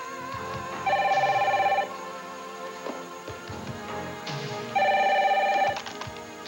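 A telephone rings twice, each electronic trill lasting about a second, loud and near, with quieter room sound and music filling the gaps between rings.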